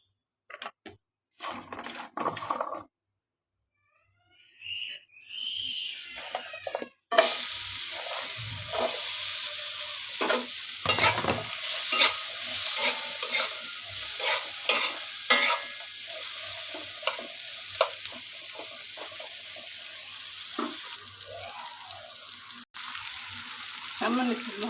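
Fish sizzles and fries in hot oil with salt, turmeric and chili powder, a steady close hiss running continuously after a few quiet clinks and stirring sounds at the start.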